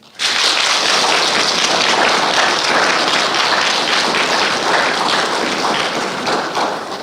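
An audience at an awards ceremony gives a loud, sustained round of applause for a keynote speaker and organizing committee, dense clapping from many people starting abruptly and holding steady for about seven seconds before easing slightly.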